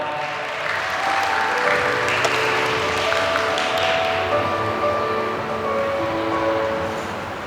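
Steady audience applause fills a Miss Grand Kalasin 2025 beauty pageant final as three runners-up stand on stage, a dense wash of clapping with music or tones faintly underneath.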